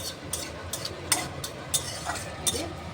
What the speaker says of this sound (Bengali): এবার এই পাঁচফোড়নটা খুব সুন্দর ভাজা হবে